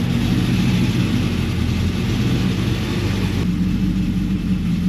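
Pontiac WS6 Trans Am V8 idling while it warms up, a steady, close, low-pitched rumble with an even, unbroken tone throughout.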